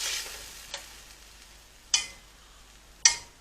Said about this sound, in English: Make enough sauce for our mussel to go around. You see it, guys? And let it cook, let that tomato cook.